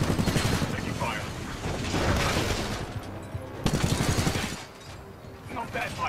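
Gunfire in the video game Titanfall 2, a dense mix of rapid shots and booming impacts that runs almost the whole time, loud and close, dipping briefly near the end, with talk mixed in.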